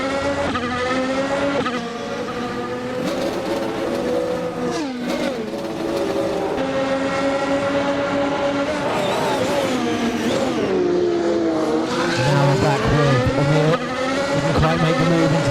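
Several race cars, a Ferrari among them, scream past in a sim racing game, their engines rising and falling in pitch through gear changes and close overtakes on a tight S-section, steady and loud throughout with faint background commentary.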